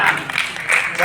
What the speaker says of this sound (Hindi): चलो रुक जाओ, ताली मत बजाओ